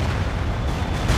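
Artillery fire and explosions in the game World in Conflict, a dense, loud continuous rumble of booming blasts and roaring impacts.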